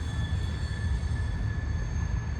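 Freight train rolling steadily around a curve at dusk beside a CSX line, with continuous heavy low wheel rumble and a sustained high-pitched wheel squeal ringing over it, loud and unbroken throughout.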